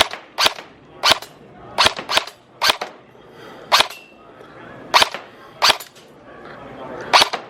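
Arcade shooting gallery game at a mall, firing sharp cracking electronic gunshots one at a time at irregular intervals, about ten in all, each loud and brief over faint background hum.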